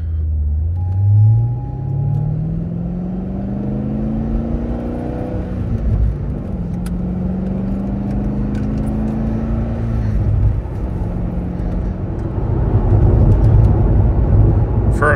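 A 15-year-old Chevrolet Corvette C6 Z06 driven on the road, heard from inside the car, its engine note rising and falling through gear changes over a steady loud road rumble, with no talk.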